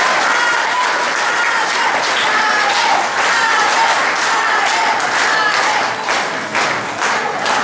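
A crowd at a 2019 diocesan Ultreya gathering in Etchojoa applauds a priest, Padre Edgar Matuz. The dense, loud clapping is sustained for several seconds, with some cheering mixed in, then dips briefly near the end.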